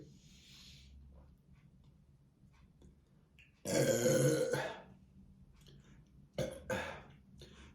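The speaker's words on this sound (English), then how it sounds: "Me burping while I'm drinking malt liquor" A loud, drawn-out burp from someone drinking a 24 oz Hurricane malt liquor, followed by two shorter burps, with faint low background noise between them.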